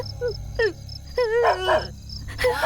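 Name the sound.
dog barking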